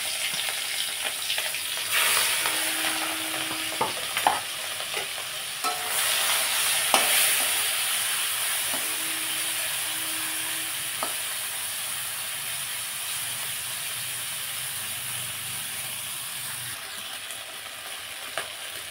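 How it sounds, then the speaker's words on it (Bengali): Fish frying in mustard oil in a karahi sizzles steadily and fairly loud, a continuous crackling hiss with occasional clinks of a utensil against the pan. "এবার আমি মাছটা ভেজে নেব।"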